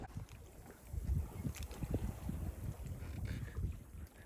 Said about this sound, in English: You can even hear the waves right here.